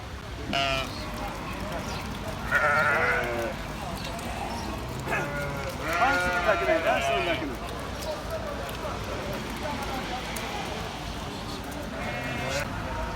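Merino and other sheep bleat at an outdoor small-livestock market in Osmaniye, with several calls rising above steady crowd chatter and occasional hoof clatter.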